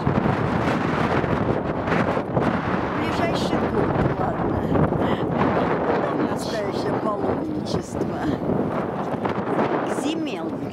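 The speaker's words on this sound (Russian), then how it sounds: "Да, ветер, холодный ветер." Cold wind gusting across the microphone outdoors in Yerevan, a steady broadband rush that stays loud and unbroken, with voices speaking beneath it.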